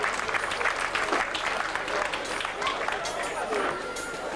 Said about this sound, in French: Voilà pour ces trois féminines, on les applaudit très fort